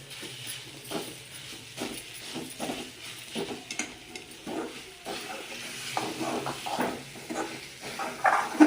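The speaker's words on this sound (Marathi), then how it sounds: "छान घालून छान असं ढवळून घ्यायचं" Grated sweet potato being stirred in a pan, soft repeated scraping and rustling strokes in an uneven rhythm, quiet and close, with no talking.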